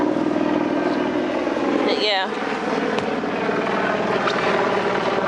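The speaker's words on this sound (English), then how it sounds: "There's a helicopter going by." A helicopter passes overhead above a backyard vegetable garden of corn, peppers, cantaloupe and tomatoes, its steady rotor drone loud and continuous while someone speaks briefly.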